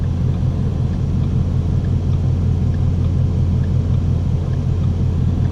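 Deep, steady engine rumble from a 2012 Ford Mustang Boss 302 under way, a loud continuous low drone with no breaks and no voices.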